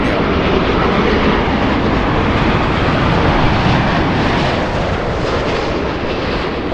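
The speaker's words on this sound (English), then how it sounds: "Big 787 flying in from Schiphol." A KLM Boeing 787 arriving from Amsterdam lands at LAX, its jet engines giving a loud, sustained broadband roar close by that thins slightly toward the end. No voices.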